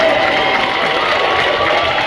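Sustained applause from a commencement audience for a college graduating class, dense and steady throughout, with faint cheering mixed into the crowd noise.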